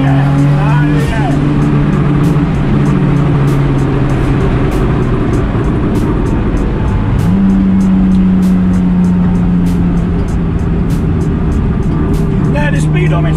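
An RB25-powered Datsun 260Z making about 520 wheel horsepower pulls hard through the gears from inside the car. The engine note climbs steadily, drops at a shift, then climbs again, loud and constant throughout.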